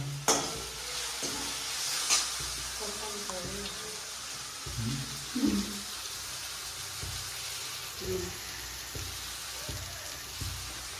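Soybeans frying in a pan with spices in a home kitchen, a steady close sizzle with occasional stirring scrapes and clinks, and faint voices underneath.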